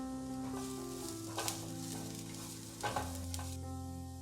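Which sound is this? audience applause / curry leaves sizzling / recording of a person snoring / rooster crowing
curry leaves sizzling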